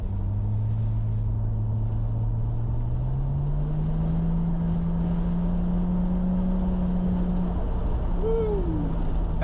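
A Nissan Skyline R34 sedan accelerates in third gear, its engine drone rising steadily in pitch as it pulls, with a faint whistle near the end and constant road noise throughout.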